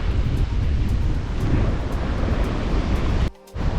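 Waves wash and break at a sandbank in Indonesia, one side rough, the other calm, making a broad continuous roar mixed with wind buffeting the microphone, loud and close until a brief dip at the end.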